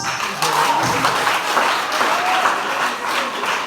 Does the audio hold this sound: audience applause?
yes